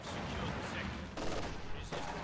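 MG42 machine gun fire in a WWII strategy game battle, dense rapid bursts layered with other gunfire and explosions in a busy, continuous combat mix.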